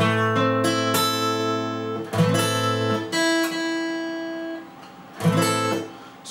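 Acoustic guitar strummed in a minor barre chord, several ringing strums with sustained decay between them, close and clear with no voices.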